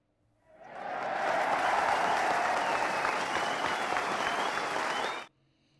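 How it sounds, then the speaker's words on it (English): A Madden NFL stadium crowd roars and cheers after a big play, swelling quickly to a loud, sustained wall of noise that holds for several seconds and then cuts off abruptly. "The roar of the crowd actually liking this"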